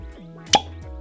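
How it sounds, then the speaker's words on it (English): A cork pops from a bottle of cask-strength Kentucky straight rye whiskey, one sharp hollow pop with a brief ringing echo, close and alone. "Pop that cork, pause for cork pop."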